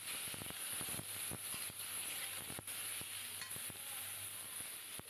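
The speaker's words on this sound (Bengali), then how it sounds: "সাদা সর্ষেটা ফোড়ন দিয়েছি, আর এই যে একটু পাঁচ ফোড়ন দিয়ে দিলাম" White mustard seeds and panch phoron spices temper in hot oil, giving a continuous close sizzle dotted with sharp crackling pops as the seeds sputter.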